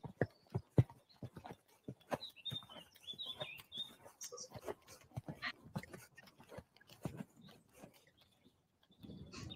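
A horse canters over cavaletti poles in a training session, hooves striking in quick, uneven clusters of thuds and clops at moderate distance, with faint bird chirps in the background and no voices.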